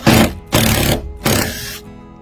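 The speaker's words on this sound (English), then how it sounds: "plug into my nice little tool here, the Sonakita, and now we can start to undo the old hasp" A Sonakita power tool unscrewing an old hasp on a storage shed, with three loud, close whirring bursts separated by short pauses and no speech.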